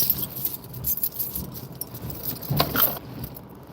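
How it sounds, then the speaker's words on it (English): Keys jangle in brief bursts through the moment, close and fairly loud, with faint background noise and no speech. "Keys, check."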